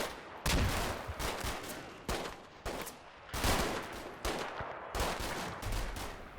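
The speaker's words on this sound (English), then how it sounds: "the British shooting German reinforcements inbound while the Germans in the neighbouring house fire the opposite way towards the street" Rapid bursts of small-arms and machine-gun fire from British troops and Germans in a neighbouring house trading shots in the wartime game Combat Mission Final Blitzkrieg, loud clustered volleys repeating every second or so with brief gaps.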